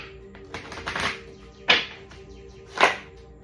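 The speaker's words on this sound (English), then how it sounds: "Let me get this deck a bit of a shuffle" Tarot deck being shuffled by hand, a soft riffle of cards building around the first second followed by two sharp, brief snaps of cards being squared, close and alone with no talk.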